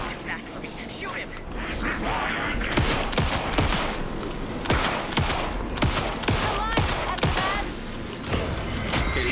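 Rapid, sustained gunfire in Alan Wake 2 rattles out in quick repeated bursts across several seconds, loud and close, with a person speaking over the shooting.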